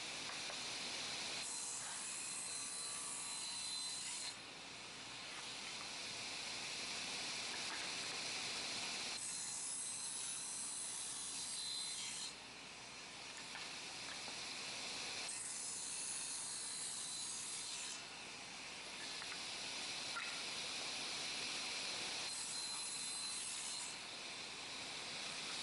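Wood pieces for cut-out picture frames are cut with steady, raspy rasping. It comes in long continuous passes with brief pauses between them, moderately loud and with no talking.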